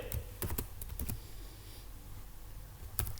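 Keys clacking on a computer keyboard while C code is typed, a quick burst of sharp clicks at the start, a pause, then one more keystroke near the end, close and fairly quiet, no talk.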